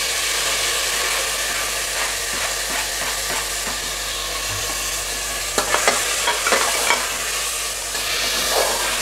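Chopped tomatoes sizzle and hiss steadily in a pan over full flame, with repeated scraping stirs and clinks from a spoon growing more frequent toward the end.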